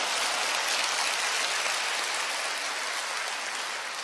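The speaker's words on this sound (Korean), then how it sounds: "수준 있는 교회는 이때를 박수를 칩니다" A church congregation applauding, heard as an even, hissing wash of many distant hands that holds steady for several seconds with no speech.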